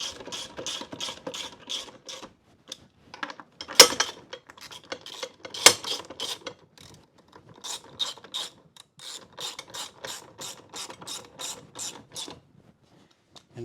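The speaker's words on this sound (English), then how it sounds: "because these are only 13 millimeter nuts, I'm going to tighten it down" A ratchet clicks steadily while tightening 13 mm nuts on a jet ski, close and fairly quiet: runs of rapid pawl clicks broken by short pauses and a couple of sharper clanks.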